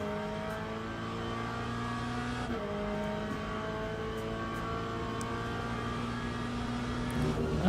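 A GT3 race car in the Le Mans Ultimate sim at Bahrain: a steady engine drone climbs in pitch, shifts up near the midpoint, then keeps rising under full throttle, close and continuous with no voices.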